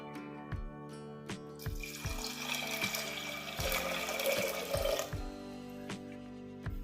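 Water streams steadily into a pot of lentils for a few seconds, splashing and gurgling, while soft background music plays with a regular beat.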